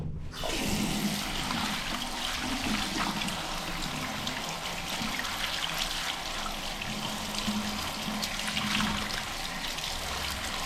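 Tap water gushes steadily over a polymer Romanian banknote, starting abruptly and then running as a continuous close splashing stream with no talk.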